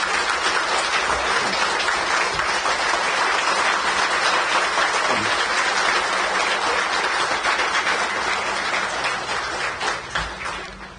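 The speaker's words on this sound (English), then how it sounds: "I request all of you to stand and give a clap to our Lawrence sir." Sustained applause from a seated audience at a bank officers' federation conference honoring a guest, loud, even and continuous throughout, tapering slightly at the very end.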